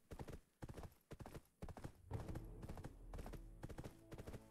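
Horse hooves clip-clop in Black Desert as a level 2 horse travels, a brisk, rhythmic run of close, distinct hoofbeats with a faint whinny-like tone partway through.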